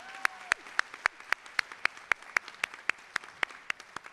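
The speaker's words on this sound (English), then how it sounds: "Give her another round of applause." Slow, evenly spaced claps, about four per second, ring out crisply and fairly faintly at a college convocation ceremony, each one a sharp isolated smack with quiet between, rather than a dense crowd roar.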